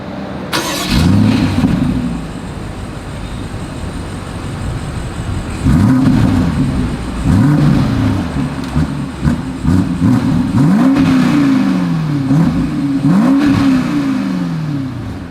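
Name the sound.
SUV dual exhaust revving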